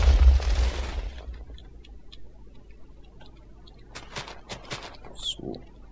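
Cannons firing and exploding in the WarGear video game, a heavy low boom at the start followed by a string of sharp clicking and popping impacts, with a brief higher burst near the end.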